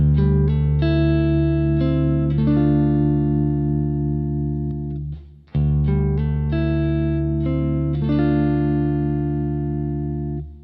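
Guitar through a Walrus Audio Monumental analog tremolo pedal set very subtly, letting chords ring and sustain with a faint pulsing shimmer; two long strums separated by a brief drop, alone and clear.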